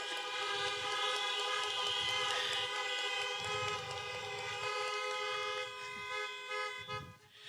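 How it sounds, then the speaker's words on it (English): Car horns sound together at an outdoor campaign rally in Des Moines, Iowa, a sustained, layered honking from many vehicles that carries steadily across the whole stretch, fairly far off and fading slightly at the end. "Can I get some honks for the unions"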